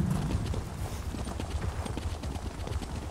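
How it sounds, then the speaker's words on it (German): Steady clip-clop of horse hooves while riding in The Elder Scrolls Online, a continuous rhythmic trot heard up close and fairly quiet over a low background rumble. "Von hier aus, glaube ich, kann ich ganz gut reiten."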